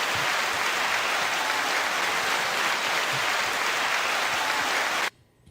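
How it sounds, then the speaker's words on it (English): A studio audience gives sustained, dense applause at a hip-hop talk show, loud and steady for about five seconds before cutting off abruptly into near silence. "9-second applause."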